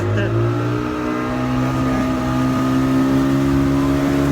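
A car engine is revved, its droning hum holding steady and swelling slightly, loud and close, with voices talking over it.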